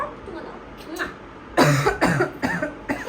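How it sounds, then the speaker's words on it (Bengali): Four sharp coughs come in quick succession, close and fairly loud, at home after a quiet stretch of faint room sound. "আমার কেন কাশি হয়"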